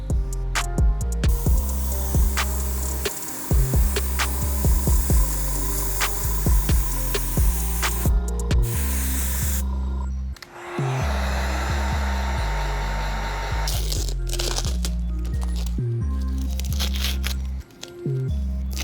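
Airbrush spraying white Jacquard paint onto the scuffed white leather of an Air Jordan Chicago sneaker: a loud, continuous hiss in long bursts broken by short pauses, with a low hum and clicks underneath.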